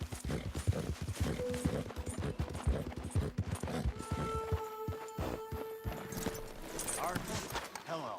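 Horse hooves clip-clop steadily in Red Dead Redemption 2 as a horse walks and trots on a trail, a close rhythmic clatter running under frequent male speech and game sounds.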